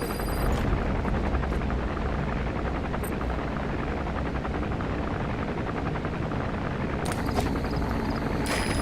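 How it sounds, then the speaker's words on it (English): An arms dealer's patrol helicopter in Metal Gear Solid V: The Phantom Pain roars close and loud, a dense continuous rotor and engine rumble filling the scene throughout. "Looks like the arms dealer's chopper is gonna patrol for the security forces."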